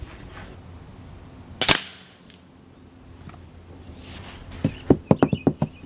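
Shotgun blasts from a Benelli Nova firing AVS slugs at a 100-yard range: one sharp, loud report early, then a quick string of several sharper cracks near the end.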